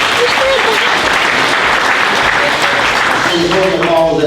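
Steady, dense applause from a large audience at a hall of fame induction fills the whole stretch, with a voice talking over it near the end.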